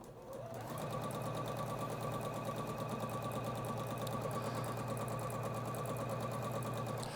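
A sewing machine runs along a fabric edge, starting after a brief moment and then holding a fast, even mechanical whirr with rhythmic needle chatter, close and loud.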